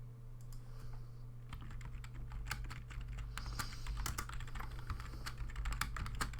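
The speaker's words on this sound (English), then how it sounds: "Sorry if you can hear my keyboard as well" Quiet, steady clatter of typing on a computer keyboard picked up by a desktop USB microphone, with rapid irregular keystrokes continuing throughout.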